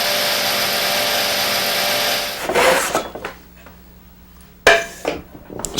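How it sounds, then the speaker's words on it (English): Bandsaw cutting tenon cheeks in wood for frame and panel work, a steady loud whirring rasp for about two seconds, then quieter clattering handling sounds and a couple of short bursts as the blade runs again. "Then bandsaw the cheeks."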